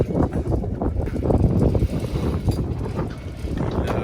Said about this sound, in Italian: C'è vento